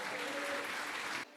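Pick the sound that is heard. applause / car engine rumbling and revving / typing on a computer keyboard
applause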